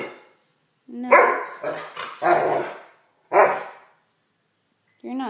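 Rottweiler dog barking and yipping in short bursts, several close barks separated by pauses, with a person talking nearby.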